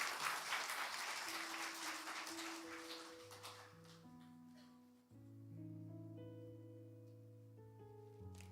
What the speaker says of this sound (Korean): 우리 박수로 격려하도록 하겠습니다